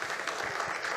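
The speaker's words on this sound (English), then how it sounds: "Je vous demande d'applaudir nos panélistes." A brief burst of steady audience applause for the panelists at a conference session, dense and even throughout, with no speech on top.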